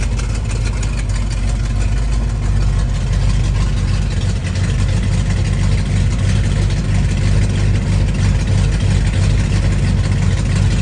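A 1968 Ford Mustang's 302 V8 engine idles steadily with a deep, rumbling low-end throb, loud and close, running unchanged throughout with no voices.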